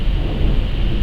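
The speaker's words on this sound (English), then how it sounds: "Storm is beginning to leave the area." A thunderstorm over Plymouth Harbor, with a deep, loud rumble of thunder rolling continuously over steady rain for about a second.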